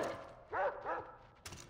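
A dog in the video game Far Cry 4 gives two short, close yelping barks in quick succession, followed by a brief sharp noise, over a quiet game background.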